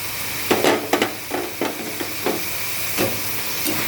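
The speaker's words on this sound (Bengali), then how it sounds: "এবার এই আলুটা খুব ভালো করে মিশিয়ে নেব মোচার সঙ্গে" A spatula scrapes and stirs mashed boiled potato into banana flower in a sizzling pan, with repeated uneven strokes over a steady frying hiss.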